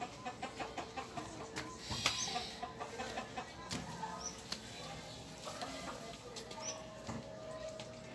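Bantam chickens cluck softly nearby in a run of short, repeated calls. A quiet voice is heard now and then beneath them.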